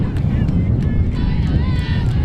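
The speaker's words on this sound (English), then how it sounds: "Very windy here up on the rafters." Wind blowing across the press box roof high above a softball regional championship game, a steady loud rushing buffet on the microphone that persists without letup.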